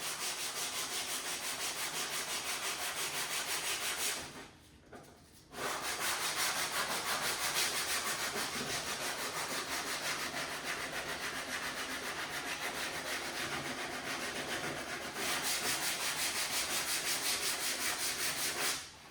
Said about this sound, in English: just sand it off a little bit.